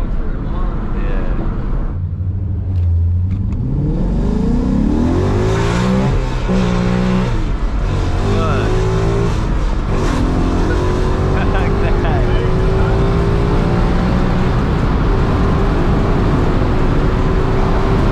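Ford Mustang GT with a 6-speed manual revving up and down during rev-matched downshifts, rising and falling engine pitch heard from inside the car with road noise and people talking over it.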